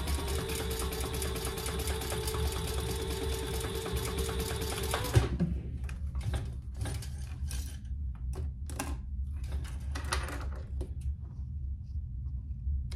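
A sewing machine stitches rows on a Dayna waist pack, a steady loud close whirring hum for about five seconds, then stopping and giving way to scattered small clicks and handling sounds.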